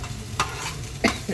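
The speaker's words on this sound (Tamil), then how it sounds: "வெங்காயம் நம்ம சேர்த்துட்டோம். இது நல்லா வதங்கட்டும்." Onions sautéing in a pan, a soft sizzle under a few brief scraping stirs of a utensil, close and short.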